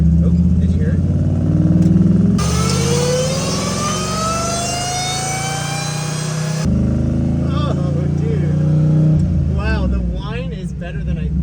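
Supercharged LS-swapped tow truck with a Hellcat blower, about 700 horsepower, driving down the road. It makes a loud, steady engine drone with rising pitch sweeps of acceleration, and people talk over it.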